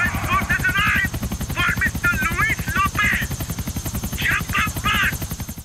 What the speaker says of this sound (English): What the heck is he gonna take me with this? Helicopter? Is this a chopper?